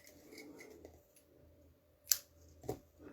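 Scissors make a single sharp snip after a knot is tied during a paper box craft, followed by a softer click, close and clear over faint background noise.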